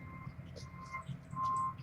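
Repeated electronic reversing beeps from a backing truck, steady and moderately distant, over a low engine rumble and faint background noise.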